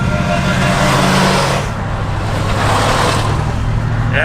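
An old 620 tractor engine on a country road in rural Iowa gives a loud, steady, close low rumble with a throbbing idle rhythm for a few seconds, joined by broadband road and wind noise.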